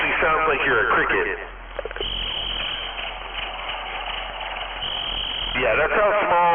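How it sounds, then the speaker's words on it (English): A small violin plays a thin, squeaky tune that sounds like a chirping cricket, with shrill bowed notes running continuously, close and loud, talk at the start and end. "It actually sounds like you're a cricket."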